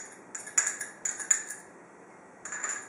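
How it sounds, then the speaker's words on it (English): A spoon stirs an egg into a beef mixture for meat triangles, clinking against the bowl in short bursts of close, bright taps with quiet pauses between. "add 1 egg to your mixture"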